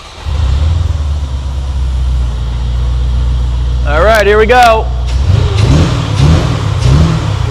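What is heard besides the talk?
Corvette engine revving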